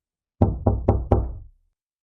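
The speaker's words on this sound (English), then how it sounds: "when she heard a knock at the door" Four firm knocks on a door in quick, even succession, close and loud, then silence; no voices accompany them.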